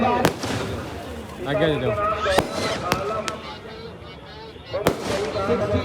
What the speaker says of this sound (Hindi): एक के बाद 60 साउंड और साथ में आतिशबाजी